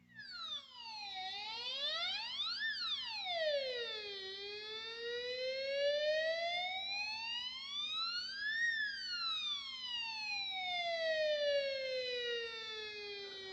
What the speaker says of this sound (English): You can also do the classic siren sound.